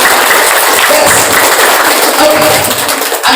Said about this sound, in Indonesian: Tepuk tangan kalau kita semua gitu